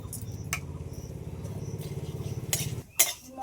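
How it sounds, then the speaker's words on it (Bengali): Whole coriander seeds, cumin and black peppercorns dry-frying in a wok, giving a steady crackling rustle with a few clinks of a utensil against the pan near the end. "তারপরে এই কড়াইয়ের মধ্যে দিয়ে দেবো গোটা ধনে, গোটা জিরে আর গোটা গোলমরিচ নিয়েছি।"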